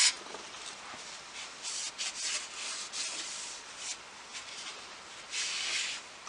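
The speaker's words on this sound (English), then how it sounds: "let me just wipe that bit with the brake cleaner" Rag wiping oily residue from a 2003 Jeep Liberty KJ differential housing with brake cleaner, a soft repeated rubbing and scuffing in short strokes with faint spray hiss, close and steady with no talk.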